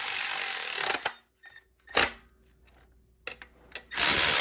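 A power tool drives bolts during a Toyota 2JZ engine bottom-end assembly, close and loud, in several short bursts separated by quiet gaps.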